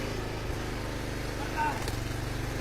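A firewood splitter's motor drones steadily, its pitch rising and falling as the throttle fluctuates and surges, with a few knocks and clunks over the running engine while ash rounds are split.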